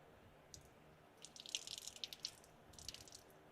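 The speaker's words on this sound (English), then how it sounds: "pouring a little water in it, and here it comes straight out" Water poured into a car's sunroof drain splashes and trickles out of the drain tube in a quick burst of drips and spatters, faint and close, with no talking.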